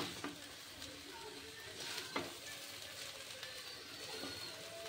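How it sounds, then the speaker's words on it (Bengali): Fried rice sizzles softly in a pan on a low gas flame while it is stirred, with a steady frying hiss and occasional scraping strokes, faint and close. "এবার সুন্দরভাবে সবগুলো মিশিয়ে একটু ভাজি করে নেব।"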